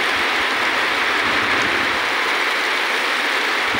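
Steady, dense rush of heavy typhoon rain and strong wind, loud and continuous with no pauses.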